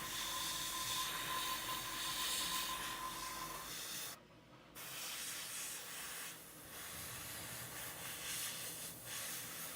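Airbrush spraying paint onto a squig miniature with goblin rider, a soft steady hiss broken by brief pauses, close and faint with no talk.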